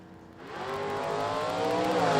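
Drag race launch of an automatic Pontiac GTO against a Camaro: engines roar up sharply from a quiet start into a loud, sustained rising drone, heard from fairly close.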